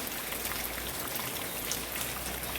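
Monsoon rain falling steadily in a rural setting, a soft, even patter of raindrops on surfaces with a low continuous hiss, fairly faint and unbroken, no one speaking.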